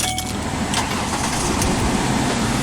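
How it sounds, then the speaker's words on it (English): A car engine runs steadily up close for a couple of seconds, a dense low rumble with no voices, as it is started during a check for an overheating fault with a single radiator fan. "you want to start up your car"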